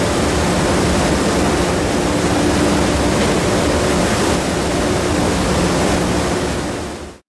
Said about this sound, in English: Most of the time on the river, her stern wheel provides the propulsion.